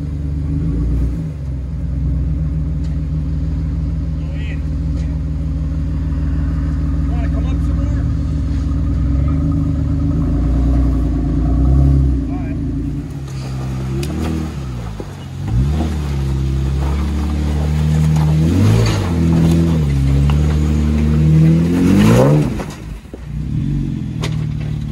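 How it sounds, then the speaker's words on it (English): A Jeep with a loud, exhaust-like engine note rumbles at idle, then revs hard in repeated surges. The revs rise and fall several times, close and loud, on a woodland off-road trail in January. "so weird having your Jeep sound like it has an exhaust on it"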